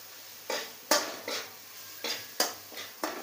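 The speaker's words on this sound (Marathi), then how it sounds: "पूर्ण असं परतून घ्यायचं आहे 2 मिनिटं।" Metal spoon scraping and stirring curry leaves, coriander powder and spices in a pan for a Marathi-style bread cutlet, with about seven sharp, evenly spaced clanks and scrapes, close and moderately loud, with no talking.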